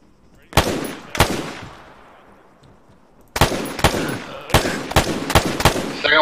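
Sharp, loud rifle cracks from a sniper rifle in the Arma 3 military shooter, two shots then a rapid string of five more close together, with quiet stretches between.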